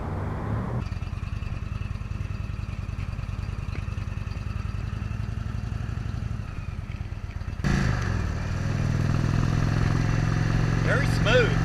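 A 2017 Indian Chieftain Dark Horse motorcycle on a test ride, its engine giving a steady low rumble that swells into a louder, rougher drone partway through, with wind noise throughout.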